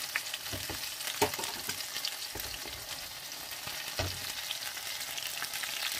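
Sausages sizzle steadily in an oiled pan, a close, continuous crackle with scattered sharper pops and occasional scraping stirs.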